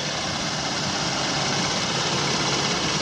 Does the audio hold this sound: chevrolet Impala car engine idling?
yes